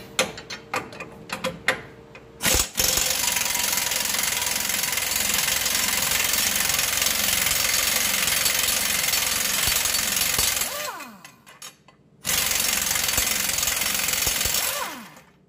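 A larger bolt is removed with a wrench, probably an impact wrench given the rapid hammering, which runs loud and continuous for about eight seconds, stops briefly, then resumes for another few seconds, with scattered clanks and tool handling before it.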